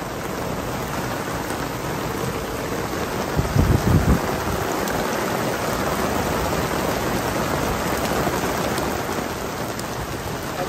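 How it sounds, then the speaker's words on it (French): Heavy rain and hail pelt a sailboat during a thunderstorm, a dense, steady hiss of drops drumming on the deck and rigging, with a brief burst of harder knocking about a third of the way in. "On a de la grêle qui tombe."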